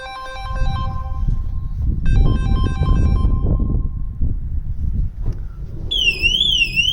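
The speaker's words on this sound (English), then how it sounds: "Factory fitted alarm going first," Electronic beeping tones sound in short bursts over a low rumble, then a loud warbling siren cuts in near the end, close and piercing: a VW Transporter's factory alarm, then an aftermarket alarm.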